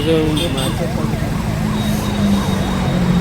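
Ambulance siren wailing with a steady rising-and-falling tone over a noisy street crowd at the Cuttack Bali Jatra fair, with people talking throughout.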